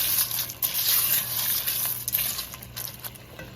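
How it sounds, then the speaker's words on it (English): Water gushes into a pot of pasta shells in a short, steady pour, a close, hissing splash that eases slightly toward the end, with no talking. "And let's add our water."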